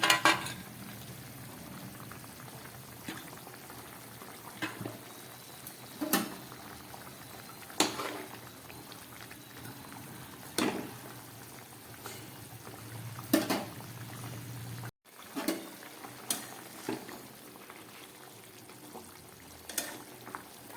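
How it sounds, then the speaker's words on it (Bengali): Fish curry bubbling steadily in a pot on a gas stove, a low continuous simmer with occasional soft clinks and pops, close and moderately quiet, with no talking. "মাছের ঝোলটা একদম ফুটে উঠেছে।"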